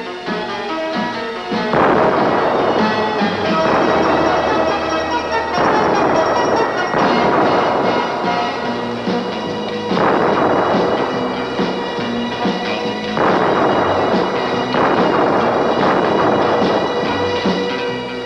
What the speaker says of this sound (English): the charge is detonated electrically, and he somersaults through the explosion